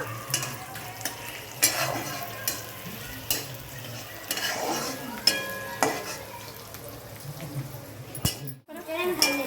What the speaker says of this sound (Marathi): बघा छानपैकी आपले आता मसाले परतून झाले